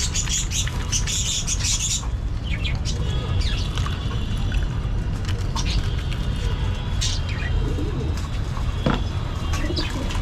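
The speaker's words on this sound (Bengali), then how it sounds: "আমার কবুতরের যেহেতু খেয়ে অভ্যাস ওই ক্ষেত্রে কবুতর মানা করে না ওকে কবুতর খায়" Pet pigeons coo softly at feeding time, low throaty calls repeating under bright chirps and light clatter, with faint human voices in the background.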